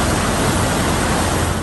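Loud, steady roar of rushing white, foamy water in the Karga Nala stream; a dense, unbroken wash of noise, close by and with no voices.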